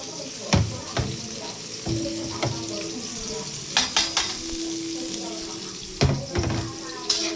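Bottle gourd and onion sauté in a pan for a Filipino dish, with a constant close hiss of frying broken by sharp clatters and scrapes of stirring, alone without talk.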